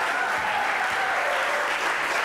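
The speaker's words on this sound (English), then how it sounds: "I want a round of applause for Yvonne." A live studio audience gives a round of applause, a steady dense wash of clapping throughout, fairly close and with no voices over it.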